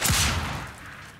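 A gunshot fired through a window pane in the game Mafia 2, a sharp loud blast at the start with a broad crack and bright glassy top, trailing off into a short fading rumble with no talk.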